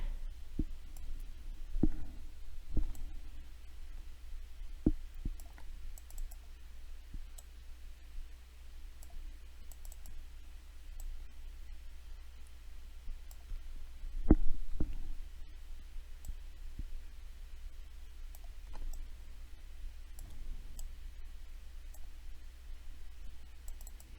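Sparse, faint computer mouse clicks scattered over a quiet room tone with a low hum, single sharp ticks spaced several seconds apart.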